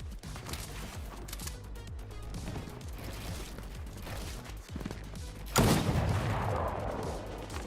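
SMG fire from the video game Fortnite comes in dense rapid bursts with thuds and mechanical clicks, ending in a louder blast near the end.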